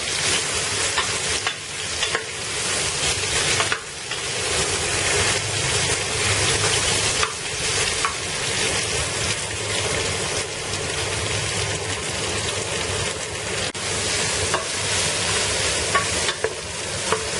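Three to four sliced onions fry for biryani in a pan with a steady, dense sizzle that continues unbroken at close range, with occasional soft stirring scrapes and no talking.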